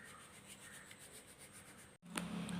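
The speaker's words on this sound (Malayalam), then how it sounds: "ഒരു മൂന്ന് പ്രാവശ്യം ഇതൊന്ന് അരിച്ചെടുക്കാം" Amrutham powder mixed with baking soda, baking powder and salt is sifted through a sieve, giving a faint, steady gritty rubbing with a brief pause and a louder scrape near the end.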